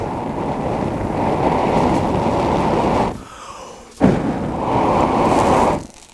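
A tall flame from a baked bean tin hand warmer roars loud and steady, stops abruptly, then whooshes back up at full strength before dying away, with no voices.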